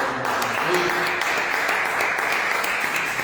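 A church congregation applauds together at a missions workshop, a dense, even wash of clapping sustained throughout, moderately loud with a brief voice murmur near the start.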